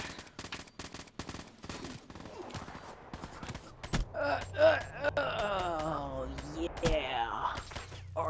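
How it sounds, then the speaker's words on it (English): Gunfire in a video game kill cam: a rapid burst of sharp shots in the opening seconds, followed by louder game audio with wailing, moaning tones and a low rumble, and voices in the background. "I heard lots of shots."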